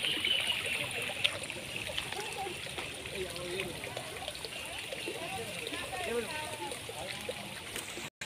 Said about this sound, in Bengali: নিজে নিজে জল পড়ছে